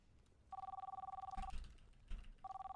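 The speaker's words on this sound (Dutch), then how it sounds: "ik hoor de hele telefoon. Echt irritant." An in-game telephone rings in the restaurant simulator Kebab Chefs, a rapid trilling bell heard in bursts of about a second with a gap between, mid-level against background clatter and thumps.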